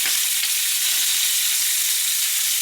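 Bacon fries loudly in a pan for a burger, a dense, continuous hiss and crackle of sizzling fat close up, with no one speaking.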